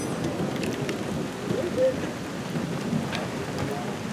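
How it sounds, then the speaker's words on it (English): Heavy rain pours down outdoors during hot weather, a steady, dense hiss with faint rumbling underneath, broken by brief scattered sounds. "it's raining pretty heavy"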